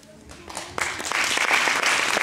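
An audience at a disabled sports awards ceremony breaks into applause, starting faint and quickly building into a dense, steady clapping that carries to the end.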